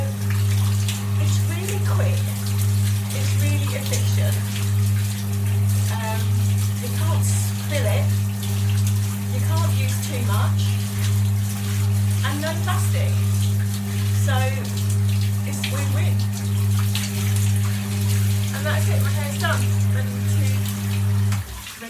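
Water runs steadily from a shower while hair is rinsed of solid shampoo and conditioner, a constant close splashing rush over a low hum, with brief shifting spatters.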